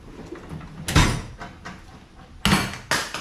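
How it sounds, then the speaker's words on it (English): Hammer blows on a 1986 Mazda B2000 pickup during a Weber carburetor swap, three sharp metallic strikes at irregular intervals, close by, with quiet pauses of shop background between them. "Gotta get out the hammer."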